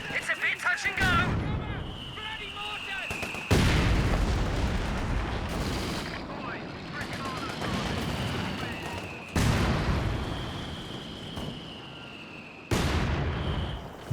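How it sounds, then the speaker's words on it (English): Mortar fire and explosions on a Company of Heroes 2 battlefield, with four heavy booming blasts at irregular intervals and crackling, rumbling battle noise filling the gaps between them. "Mortar's flying both directions now"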